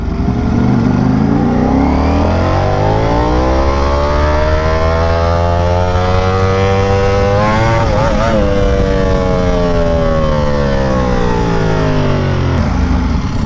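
A loud Ducati Panigale V4R sport motorcycle engine revs up and down continuously, its pitch rising, dipping and climbing again, with heavy wind roar throughout.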